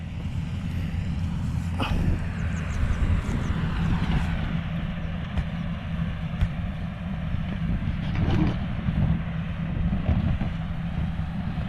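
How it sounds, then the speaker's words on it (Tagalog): Strong gusty wind buffets a typhoon-flattened rice field, a continuous low roaring rumble with occasional harder gusts, heard up close with no talking. "Eh, medyo malakas-lakas yung hangin dito eh."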